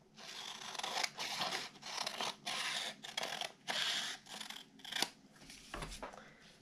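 Scissors snip through a sheet of origami paper to trim off the excess, about seven close, distinct cutting strokes in an uneven rhythm with brief pauses between them.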